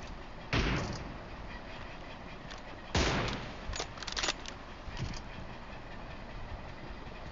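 Sniper rifle fire from an M24 in a team deathmatch video game: about five loud, sharp cracks at irregular intervals, with some tails, over a steady background hum.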